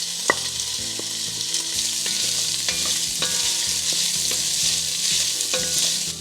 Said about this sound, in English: we're going to add the meat and the liver together in batches.